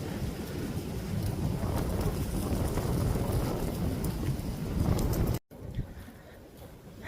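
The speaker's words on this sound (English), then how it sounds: "It is really windy." Strong wind roaring and buffeting the microphone, a dense continuous rush that cuts off abruptly and then continues more quietly.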